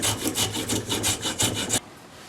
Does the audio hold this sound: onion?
no